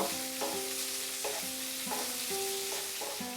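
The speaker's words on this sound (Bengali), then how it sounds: "কাঁচা লঙ্কা আর ক্যাপসিকাম দেওয়ার পরে আমি আরো 1 মিনিট এটাকে ফ্রাই করব।" Green chillies and capsicum fry in a pan with a steady, even sizzle and repeated light tonal scrapes from stirring, close and continuous without any talking.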